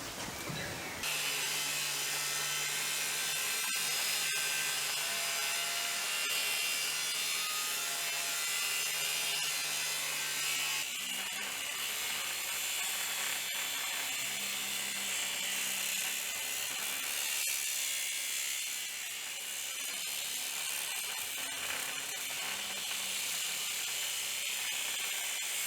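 A power tool, run from a portable power station, grinds steadily through a section of steel railway track to make bookends, a loud continuous high-pitched cutting whine with slight shifts in tone.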